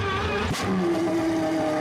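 Engine of a Pagani Huayra R in the Roblox game Driving Empire, a steady close-up revving drone with a brief sharp burst partway through, then a rising tone as the engine holds, with no speech.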